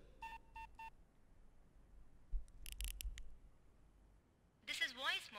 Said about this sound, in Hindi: आप किसी फोन से मेरा मोबाइल नंबर डायल कीजिए और स्टार दबाइए